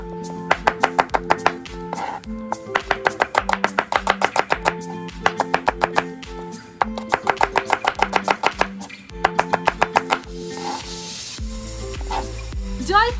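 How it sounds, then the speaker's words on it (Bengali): A knife finely chops onions on a board in fast, sharp, evenly spaced bursts of taps with brief pauses, close and loud, followed by a hiss of water or oil at the end. "পেঁয়াজগুলোকে কুচি কুচি করে কেটে নিচ্ছি।"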